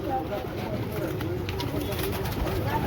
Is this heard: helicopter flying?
no